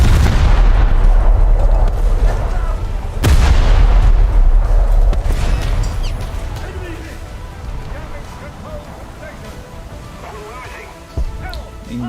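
Naval guns firing in War Thunder: two loud booming blasts a few seconds apart, then a rumbling decay and another thud near the end, with a voice talking over the gunfire.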